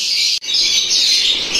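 Caged green opaline dilute lovebirds chirp in a dense, continuous chorus of high, shrill calls, close and fairly loud, with a brief break early on before the chattering resumes.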